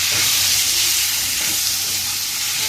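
Marinated chicken frying in a few tablespoons of oil gives off a loud, steady, close sizzle with a broad hiss and no pauses.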